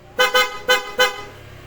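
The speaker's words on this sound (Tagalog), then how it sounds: "And then pag naka-on, so yung loud horn na yung gagana." Four short, loud blasts from an aftermarket horn on a Honda ADV 160 motorcycle, in a quick broken rhythm, a harsh, bright honk with pauses between, heard alone.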